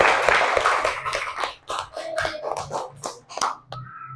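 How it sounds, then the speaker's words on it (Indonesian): A classroom of students applauds in a burst of scattered, uneven hand claps that run for a few seconds before trailing off, close and fairly loud. "Tepuk tangan dulu buat kita semua."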